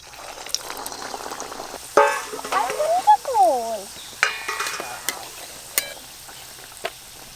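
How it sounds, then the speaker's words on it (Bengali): Chicken mughlai paratha frying in oil sizzles softly under scattered clicks and clatter, while a wavering, horn-like tone rises and falls in the middle before fading back into the low frying hiss. "মোগলাই তো তৈরি হয়ে গেছে এবার ভাজার পালা"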